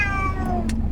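A kitten meows loudly and close up, one drawn-out cry followed by a couple of brief higher squeaks, with no talking.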